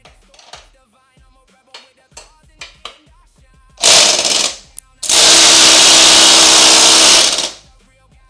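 Cordless impact wrench working on a wheel of a wrecked 2026 Kawasaki Ninja 500 motorcycle, starting with a few short ticks and clicks, then a loud hammering burst and a second, longer sustained rattling run of about two and a half seconds, close by.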